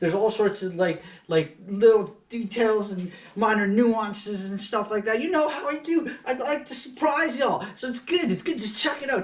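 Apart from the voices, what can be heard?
No everyday noises stand out.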